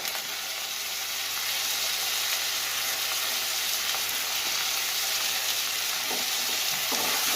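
Ginger paste and Kashmiri chili powder fry steadily in hot oil for a Bengali bitter gourd and katla fish curry, a continuous close sizzle with occasional stirring scrapes near the end.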